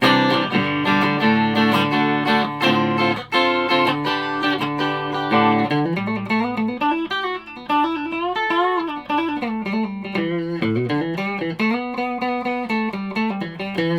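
Electric guitar with single-coil pickups played loud through an amplifier, ringing sustained chords at first and then moving into a melodic line with bends, steady and close with no talking.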